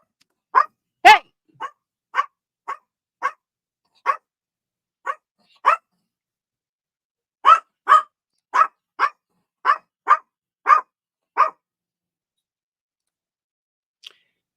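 A dog barks in a rapid series of sharp, close barks, pausing briefly midway before a second burst, then falling quiet with one faint final yip; no talking.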